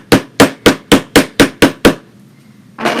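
A small hammer taps eight times in an even rhythm while a woodland ruffle valentine is being crafted, each strike close and crisp, followed by a short quiet pause and a faint rustle.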